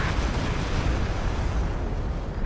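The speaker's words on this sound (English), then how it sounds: "Stupid barrage going down on that KV-8 on the ice, though." Artillery barrage in a World War II tank game, falling on a KV-8 tank out on the ice: a steady, dense roar of overlapping explosions rumbles loudly throughout.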